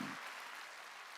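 During a Wednesday worship service, a church congregation claps together in a steady, dense wash of applause that runs on without a break.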